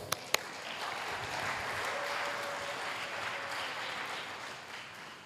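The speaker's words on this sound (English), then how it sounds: "Once again, please give them applause." An audience at an engineering seminar at Universitas Kristen Indonesia gives steady, moderately faint applause, opening with a couple of sharp close claps before settling into an even wash of clapping.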